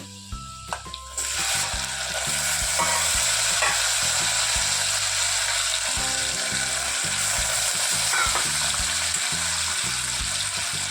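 Potatoes frying in a pan for farali samo khichdi, a steady loud sizzle running throughout with occasional clinks and stirring sounds, no talking.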